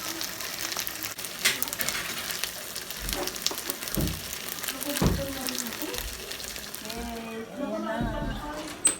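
Homemade Japanese gyoza dumplings fry in a pan with water, a steady hiss and bubbling sizzle with stirring clinks, while a person talks over it at moderate volume.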